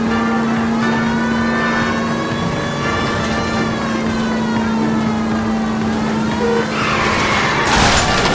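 Stolen green Kaiser Fraser chased through 1940s Los Angeles in L.A. Noire, with a steady loud engine drone, a siren-like tone and tyre squeal swelling near the end.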